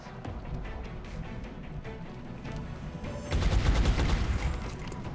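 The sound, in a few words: gunshots in XCOM: Long War video game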